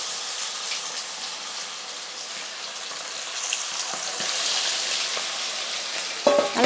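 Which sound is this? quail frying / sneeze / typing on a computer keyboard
quail frying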